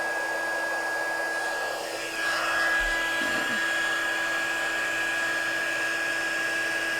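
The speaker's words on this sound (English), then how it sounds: "So I don't know if you can hear me over the heat gun, but I am letting it heat up for a couple seconds here." Steady, loud whooshing roar of a heat gun blowing hot air to melt embossing powder on a handmade card, a continuous hum with a slight shift in pitch partway through and no talking.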